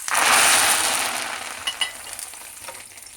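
Asafoetida and tempering spices hitting hot oil, a loud crackling sizzle at first that fades over a few seconds, with a few sharp pops toward the end, close and without speech.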